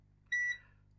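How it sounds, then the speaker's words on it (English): A single short electronic beep, high and clear, sounds once against a quiet background. "They're beeping a little bit."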